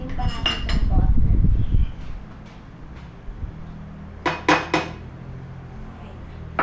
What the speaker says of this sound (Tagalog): haluin nyo ng haluin